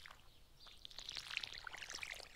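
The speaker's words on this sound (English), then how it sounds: "Now we have to water these. Get the watering can out." Watering crops with a watering can in the farming game Stardew Valley: a short, soft pouring and trickling splash effect, faint and close, lasting a couple of seconds.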